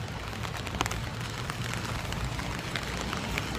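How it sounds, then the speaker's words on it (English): Steady rain falls over a parking lot on a gloomy day, a dense continuous hiss with scattered drop ticks and a low rumble beneath, no one speaking. "It's still raining."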